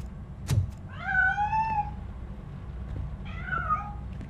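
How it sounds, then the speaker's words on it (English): A cat meows twice in the video game Robocop: Rogue City, a drawn-out rising-falling meow followed by a shorter one after a sharp knock, clear over a low background hum. "That cat must be hiding inside."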